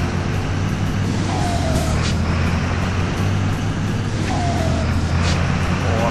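Steady engine drone from a Scania 112H truck accelerating in the driving game Grand Truck Simulator 2, a constant low mechanical hum with faint whistling pitch sweeps, moderate and uninterrupted.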